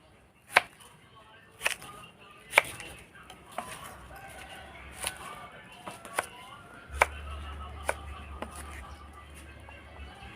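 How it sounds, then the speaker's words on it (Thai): A knife chops coconut heart into cubes sharply on a board in spaced, uneven strikes, about a dozen close-up thuds, with a faint low hum and distant rooster-like sounds behind. "ต่อไปเราก็จะหั่นให้เป็นเต๋าค่ะ"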